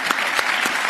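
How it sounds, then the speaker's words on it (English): Applause from a conference audience for a panel of Arab and EU foreign ministers, a dense steady wash of many hands clapping at even loudness throughout, with no talk over it. "I think the panel deserves big applause."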